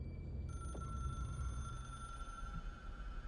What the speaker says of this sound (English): it's the phone that is not even here